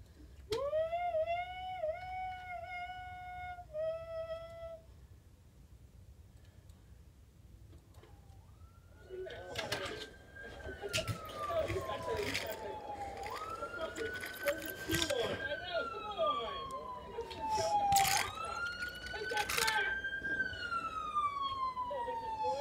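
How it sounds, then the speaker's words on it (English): A fire department rescue truck's wailing siren rises and falls repeatedly, loud and fairly close, preceded by a shorter warbling tone, with voices and street noise underneath. "it sounds like the siren"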